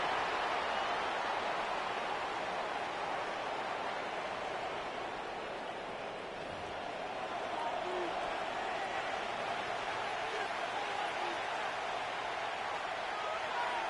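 A stadium crowd in the Madden 26 football video game keeps up a dense, steady roar for the whole stretch, swelling and easing slightly near the middle, with commentary voices faintly underneath.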